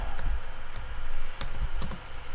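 Rapid typing on a computer keyboard, with close, crisp key clicks falling in an irregular quick rhythm and a few louder strikes standing out, with no voices.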